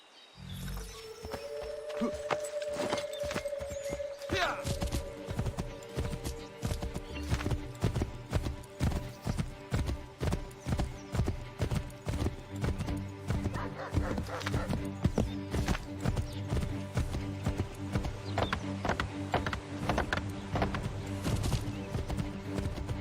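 Steady rhythmic hoofbeats of a galloping horse in the video game Assassin's Creed III, loud and continuous, with a brief whinny near the start and a faint musical backdrop.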